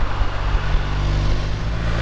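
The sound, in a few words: BMW R1250RT motorcycle engine and exhaust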